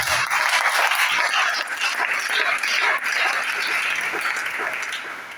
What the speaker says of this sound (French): Acclamons Jésus-Christ de Nazareth.